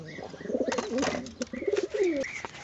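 Pigeons coo close by in a short run of soft, rolling, throaty calls that overlap one another, with no talk.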